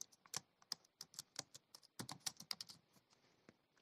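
Typing on a computer keyboard while entering column names into a Python pandas data frame, a quick irregular run of crisp close key clicks in two bursts with short pauses, no talking.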